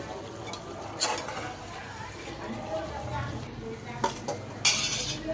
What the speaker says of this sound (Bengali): মাংসটা কষিয়ে নিয়ে এরপর কয়েকটা আলু দিব, আলুটা পরে দিব। এখন তো আরেকটু পেঁয়াজ দিয়ে দিলাম।